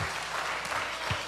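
Loud, close applause from a church congregation, a dense burst of clapping with a voice or two briefly rising through it.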